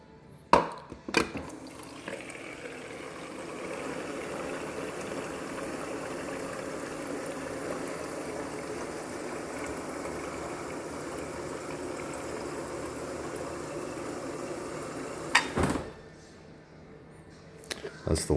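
Water pours steadily from the door dispenser of a Frigidaire Gallery refrigerator, a continuous close trickle lasting most of the stretch, with brief clicks at the start and end as the dispenser engages and stops.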